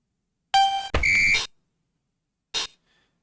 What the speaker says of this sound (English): The alarm went off.